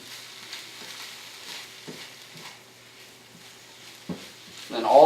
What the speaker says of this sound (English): Cheese is melting.